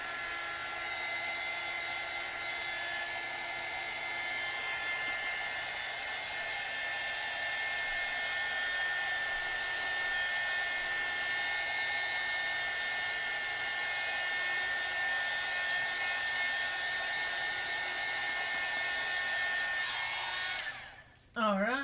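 A hair dryer drying watercolor paint runs as a steady, loud, high whirring drone for about twenty seconds, then cuts off abruptly, with a brief handling noise at the end.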